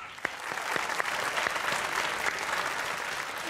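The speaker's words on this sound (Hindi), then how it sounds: "वो तालियां हो जाए" Studio audience at a talk show breaking into applause, dense clapping with a few sharp, distinct claps standing out near the front, steady and fairly loud.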